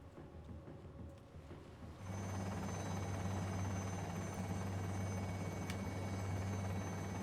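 Helicopter rotor and engine noise from a video game rises abruptly and then holds as a steady, loud, close drone, with no talk.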